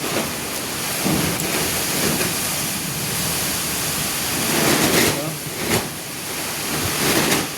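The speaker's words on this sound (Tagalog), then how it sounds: "Lakas ng ulan mga idol" Heavy rain pours in a steady, dense hiss, with gusts swelling the roar now and then; voices can be heard faintly beneath it.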